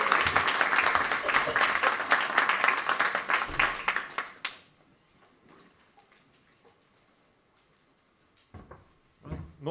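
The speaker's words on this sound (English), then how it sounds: "Give him a big round of applause." Dense clapping from a crowd for about four seconds, then it fades to near silence before a few scattered sounds return at the end.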